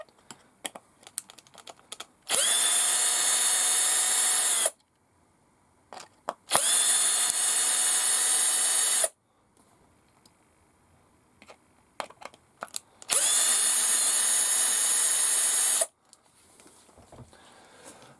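A power drill drives screws into a 1/6-scale ROCHobby Willys Jeep model. Three sustained, high-pitched whirring bursts of a few seconds each are separated by quiet stretches with small clicks and handling noises.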